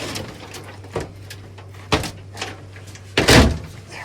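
A door at a historic site in Arkansas is pushed shut, ending in a loud close thud near the end after a few lighter knocks and rattles, close by with no talking.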